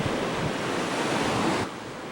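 Waves wash onto a beach in Puerto Rico, a loud, broad roar of surf with wind buffeting the microphone that eases slightly near the end.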